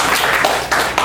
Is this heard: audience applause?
yes